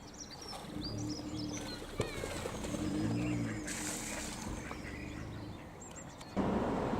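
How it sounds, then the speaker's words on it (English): Small ducklings about ten days old call with faint, scattered peeps among birdsong along a woodland walk in the North York Moors, under steady outdoor background noise. "we see there's another couple of baby ducklings on our right"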